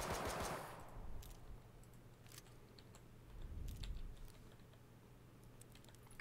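Gunfire in the video game H1Z1, a run of quick sharp cracks heard faintly in the distance, then a few scattered shots over a low steady hum.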